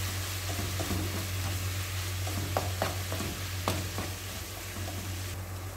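Ground beef with coriander and salt is stirred in a frying pan, with a steady sizzle broken by several sharp scraping clicks of the utensil against the pan, close by and without talk.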